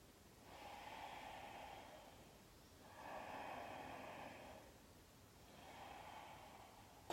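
Three slow, loud breaths pass through a constricted throat held in a yoga throat lock (jala bandha), each a long, hissing, airy rush with quiet pauses between, close and alone.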